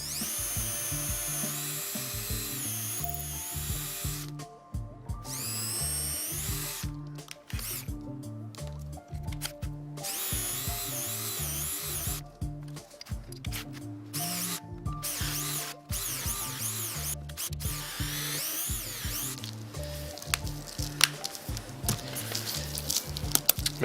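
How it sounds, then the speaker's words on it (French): A cordless drill bores several holes of different diameters into a piece of wood for an insect hotel, whining in repeated bursts that start and stop, close and loud throughout. "on va réaliser les différents trous dans notre bout de bois"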